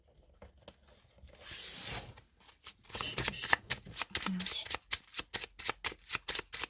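A 32-card deck of playing cards is shuffled by hand during a card reading, with a long riffling burst, then a rapid run of crisp, papery snaps that slow into distinct flicks, heard up close with no talk.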